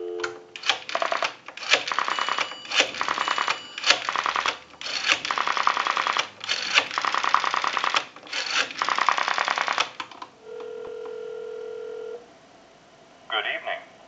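An Automatic Electric three-slot payphone dials a time-and-temperature number: loud, close rotary-dial click bursts follow in rhythmic bursts, then a steady ringback tone and a brief final tone.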